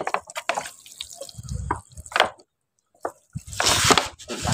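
Water splashes and trickles in uneven bursts as it is poured onto garden soil, with a short silent pause between pours, close by.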